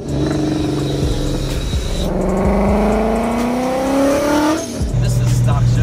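A car does a burnout, its engine revving loud and steady with rising pitch while the tires squeal continuously, then the revs drop and climb again.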